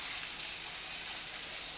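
Steady, soft broadband hiss of small Black Sea horse mackerel frying in a pan, constant and even throughout with no talking.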